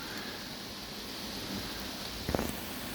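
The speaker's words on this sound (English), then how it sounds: "Welcome to the allotment project on this really dark, damp, rainy, wet day." Steady rain falls on a dark, damp winter day at an allotment garden, a continuous close hiss of drops with a brief rustle near the end and no talking.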